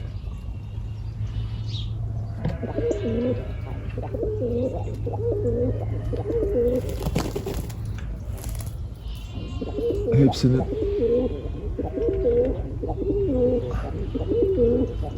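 Soft, repeated cooing of tumbler pigeons in a coop rumbles beneath a steady low hum, with a person speaking briefly partway through.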